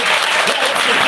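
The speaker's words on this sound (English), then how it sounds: "if you want to give them a round of applause" A town hall audience in Milwaukee's 3rd District claps in a brief, loud burst of applause that fills the short moment evenly and close to the microphone.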